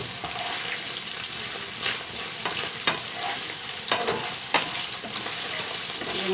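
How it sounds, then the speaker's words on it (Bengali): Paneer cubes fry in a pan with a constant hissing sizzle. Occasional sharp scrapes and clinks of stirring sound close by, with no talking. "এরকম পনিরটা ব্রাউন কালার চলে এসছে কিন্তু হালকা একটু ভেজে নিতে হবে"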